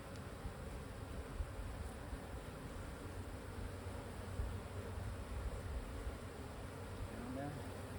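Honey bees hum around an open hive during an inspection, a steady close droning buzz that stays even throughout, with faint handling noise.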